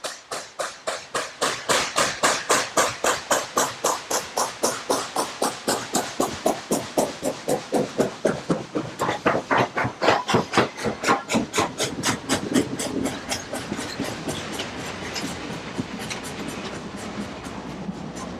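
An O gauge model train rolls along a carnival and circus layout with a steady rhythmic clacking over rail joints. The beat is close and regular, then softens and blurs toward the end.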